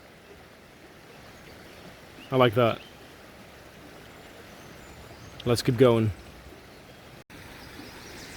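Water in a Washington river flows in a steady, soft broadband rush close by, and someone speaks briefly twice over it.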